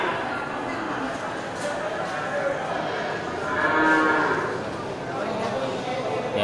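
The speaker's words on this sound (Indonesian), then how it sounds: "ini sapi bakalan dari jenis sapi simental" Simmental cross cattle moo amid a noisy livestock market pen in Indonesia, with a low drawn-out bellow rising in the middle and someone speaking over the animals.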